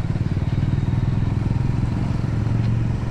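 A motorcycle engine throbs steadily on an early morning ride toward Sultanganj, its pulsing, close, loud drone holding an even pace without any talk over it.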